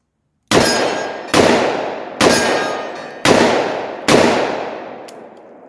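Five loud .44 Magnum revolver shots with factory loads fired in quick succession at a target, each sharp crack followed by a long ringing decay, evenly spaced about a second apart with a faint metallic ping at the end.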